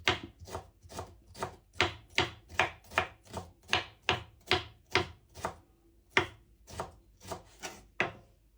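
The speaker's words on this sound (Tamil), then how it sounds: "பீட்ரூட்டை இப்படி நீளமாக மெல்லிய நூல் மாதிரி ஒரு வெட்டி எடுக்கணும்." A knife cuts beetroot into thin strips on a board, a close, even run of about twenty crisp chops at a steady rhythm with short pauses, no voices.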